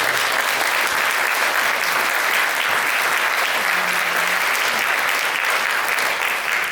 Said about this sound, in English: you might give them a good round of applause